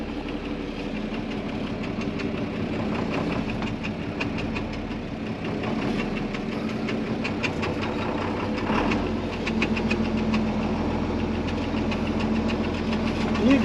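A feed truck engine crawls along in a low gear through a pasture in subzero weather, a steady rumbling drone with faint rhythmic knocking and rattles throughout, close and continuous.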